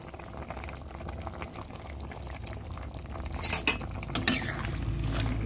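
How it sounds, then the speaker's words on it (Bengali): Katla fish curry with raw banana being stirred in a pot, a low simmering bubble underneath with a few brief utensil scrapes near the end, fairly quiet. "সামান্য একটু নেড়ে দিচ্ছি। কিছুক্ষণ ফুটতে দিলাম।"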